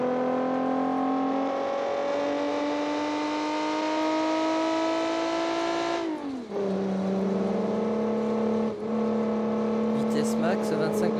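A heavy truck with dead suspension crawls along in the BeamNG driving game, its engine a loud, continuous tonal drone that rises slowly, then drops sharply and settles lower, with faint scraping near the end.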